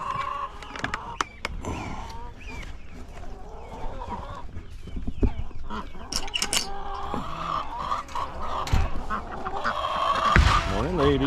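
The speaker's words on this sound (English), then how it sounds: "We gotta feed some ducks too, and one goose." Ducks and a single goose at a farmyard feeding time, honking and quacking in a busy, overlapping chorus with other poultry nearby, steady throughout and rising toward the end.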